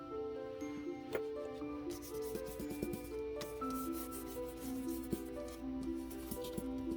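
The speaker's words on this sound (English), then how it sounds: "use my walnut stain distress oxide and distress all of the edges here" Paper edges being distressed with a Distress Oxide ink pad in walnut stain, giving a steady soft rubbing and scuffing texture close up, with light taps, over faint background music.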